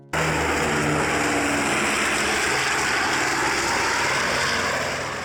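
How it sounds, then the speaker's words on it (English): Propeller engine drone of a water bomber aircraft, a steady loud buzzing hum that starts abruptly and holds constant for several seconds before easing slightly at the end, with no speech. "Water bomber plane"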